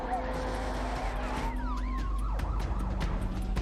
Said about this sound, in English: Sirens lit up Bondi.